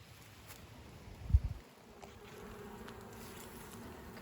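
Honeybees buzz steadily around three hives inside a high tunnel with the sides rolled up on a hot day, a soft continuous drone with a closer bee passing briefly.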